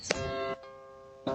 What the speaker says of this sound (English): She's ringing the doorbell.